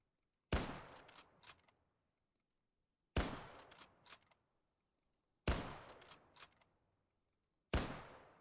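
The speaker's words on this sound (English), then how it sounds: "There we are, Mosin Nagant M91/30. So we'll fire this one" A Mosin Nagant M91/30 rifle in the game Arma 3 fires four single loud shots, each with a sharp crack and a rolling echoing tail, spaced a few seconds apart, with no talk.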